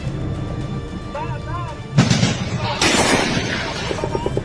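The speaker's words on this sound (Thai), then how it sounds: "ยิงเบาบางยิงเบาบาง" Gunfire from a Cambodian-Thai border clash near Ta Phraya, Sa Kaeo: a couple of sharp reports echo at a distance, with loud rumbling blasts afterward and soldiers talking in the background.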